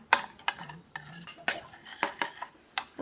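Utensils clink and scrape against a bowl while a spicy Thai glass noodle salad with shallots is stirred, giving irregular close metallic taps and clatter with no talking.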